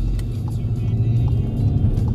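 Loud, steady road rumble comes from inside a moving car on the way to a valeting job, a continuous low engine and tyre drone with no speech over it.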